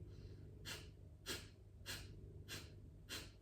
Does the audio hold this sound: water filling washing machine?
no